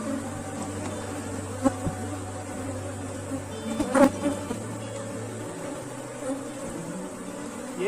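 A swarm of bees buzzing at a hive box with a wax foundation sheet, a steady close drone with a few sharper buzzes as single bees pass near, and no talking.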